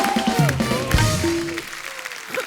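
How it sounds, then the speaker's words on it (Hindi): A TV comedy show studio audience applauds loudly under a voice, the clapping fading gradually toward the end. "एक बार जोरदार तालियां यहाँ पे मंच पे मौजूद सब कलाकारों के लिए।"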